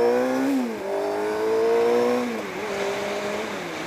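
A motorcycle on a midday commute ride, its engine droning steadily up close, with the pitch rising and dropping as the rider works through the gears. No one speaks.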